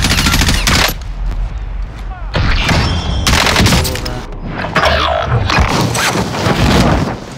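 Rapid automatic gunfire and scattered shots in the Warzone video game, loud and continuous, with explosive bursts throughout and faint voices underneath.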